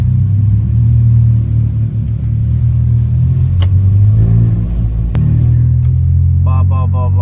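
A Stage 1 tuned Hyundai i20 N Line accelerates with a loud, continuous engine growl and deep rumble that rises and eases through gear changes, with a couple of sharp clicks and brief higher whine near the end.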